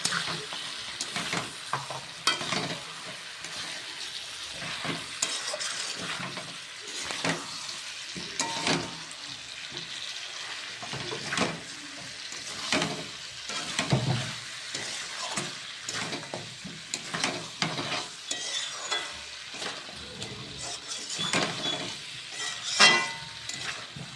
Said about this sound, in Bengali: আদা রসুন বাটা দিয়ে আবারও ভালো করে কষে নেবে